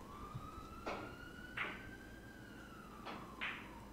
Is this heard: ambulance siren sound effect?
yes